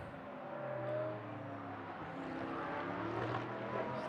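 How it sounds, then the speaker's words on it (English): A GT race car in Blancpain Sprint Series free practice in Moscow flies by on the back straight, its engine note rising and falling in a brief, fairly distant pass with no talking. "Great sound on that flyby, isn't it?"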